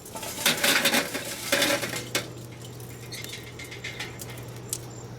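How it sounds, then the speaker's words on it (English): Lit charcoal briquettes tumble into a Slow 'n Sear insert inside an 18-inch Weber kettle grill, giving several clattering, rattling bursts early on and a sharper clink near the middle, then quieter scattered ticks over a steady low hum. "I'm going to put them in the slow and sear now"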